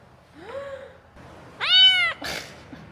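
A cat on Lombok meows three times, a short soft call followed by a louder, longer mew and a breathy final cry, close by in a quiet room.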